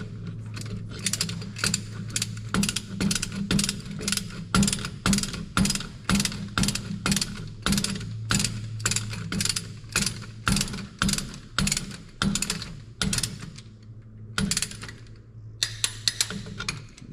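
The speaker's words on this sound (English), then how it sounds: "So I've got my half-inch torque wrench." A half-inch torque wrench ratchets quickly and close while running down LS 5.3 cylinder head bolts toward 22 foot-pounds. Rapid, crisp clicks come in long bursts with a few brief gaps between strokes.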